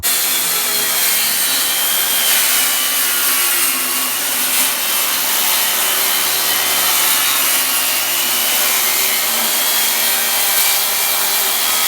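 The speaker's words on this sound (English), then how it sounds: "I've got it marked out where I'm going to cut it roughly to the length before we cut one edge straight." A wooden slab is hand-sawn to length, a steady close rasping of the blade through the wood that continues loud and unbroken throughout with no voices.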